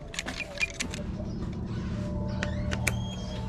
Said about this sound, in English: I'm gonna see if this hose cutter works